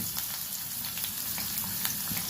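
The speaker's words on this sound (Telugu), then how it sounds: "రెండు స్పూన్లు ఆయిల్ వేస్తున్నాను వంకాయ ముక్కలు ఈ ఆయిల్లో వేసి కొంచెం వేయించాలి" Eggplant pieces sizzle and crackle steadily in about two spoons of hot oil for an eggplant and potato curry, a dense, even frying hiss with scattered pops and no voices.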